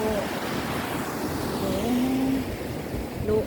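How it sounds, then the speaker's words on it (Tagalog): Large waves at high tide along Claver Baywalk in Surigao del Norte, a steady broad surf roar with gusty wind under dark clouds, continuous and fairly loud with faint background noise. "ang laki-laki ng mga alon sa ngayon"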